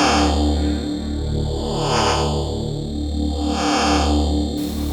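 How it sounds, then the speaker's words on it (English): Low notes from a vintage E-mu Emax SE sampler run through its analog chorus, thick sustained bass tones with a slow swirling, wavering modulation, loud and alone. "there's also an analog chorus we can put on, so we're going to do that."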